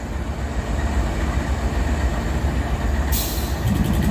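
A freight train hauling loaded coal cars rolls past in a steady, loud, close rumble, with a brighter metallic clatter joining near the end.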